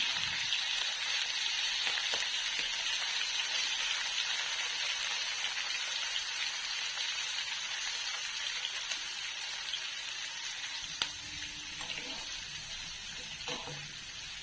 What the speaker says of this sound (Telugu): ఇవి ఫ్రై చేసుకుంటున్నాను